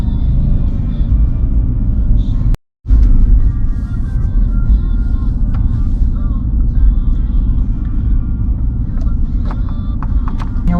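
A car rolls slowly along a cemetery drive at Westwood Memorial Park, a steady low engine and road rumble continuing throughout with one brief dropout, and faint background noise above it.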